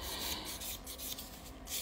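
A buffing nail file rubs over a fingernail near the cuticle with a soft, steady scratchy rasp made of quick short strokes, close up and quiet.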